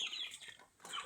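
Chickens on a poultry farm, a short burst of clucking at moderate distance with no one speaking.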